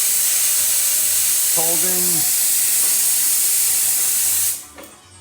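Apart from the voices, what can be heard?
Quick Mill espresso machine steam wand purging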